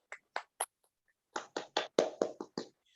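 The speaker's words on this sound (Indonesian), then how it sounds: "Tepuk tangan untuk Nak Mutiara." Applause in a classroom comes as a sparse burst of about a dozen separate handclaps, faint and irregular, with a short gap before a quicker cluster.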